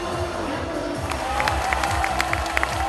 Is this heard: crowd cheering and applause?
yes